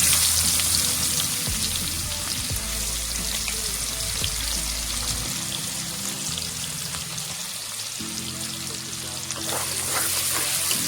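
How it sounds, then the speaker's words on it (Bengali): Chopped onions fry in hot oil in a pan while a Bengali mirik fish curry is being cooked, giving a steady, close sizzle and crackle that runs unbroken with no voices. "দেখুন বাদামি কালারের হয়ে গেছে পেঁয়াজগুলো ভাজানো।"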